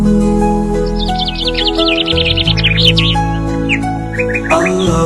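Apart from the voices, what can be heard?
bird chirping in an Islamic lullaby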